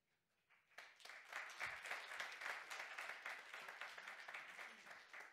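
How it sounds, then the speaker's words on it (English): An audience at a lecture on pain evidence breaks into applause: after a brief quiet moment, a sustained round of moderately distant clapping from many people fills the room at an even level. "Oh, don't clap."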